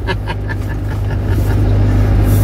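A car cruising a rural road gives a loud, steady interior rumble and engine drone that stays constant and close, with wind and road noise filling the cabin.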